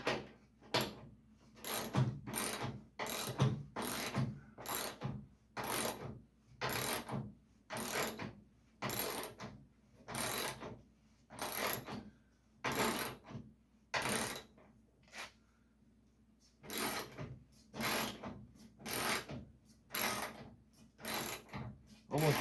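Ratchet wrench cranking the final bolt on a 1951 Chevy truck, a long run of quick clicking strokes in steady bursts with short pauses, close and fairly quiet, no talking.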